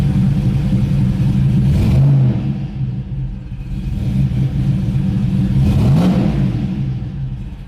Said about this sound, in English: sometimes it dies when you rev it up and come back down